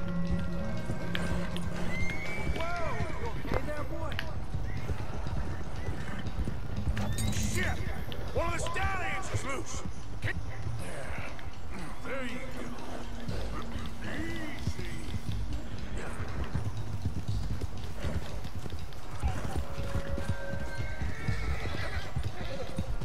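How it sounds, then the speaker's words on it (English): Horse neighing and whinnying several times over steady clip-clopping hooves and creaking as it breaks loose in Red Dead Redemption 2, with game sound and talk mixed in. "Because the horse is breaking out."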